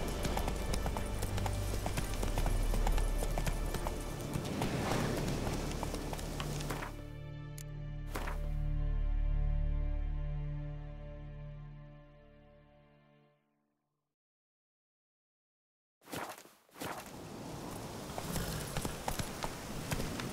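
Roach, a horse in The Witcher 3, gallops with steady rapid hoofbeats that fill the opening seconds, then fade into a sustained rumble and drop to silence before a short clatter and more movement return.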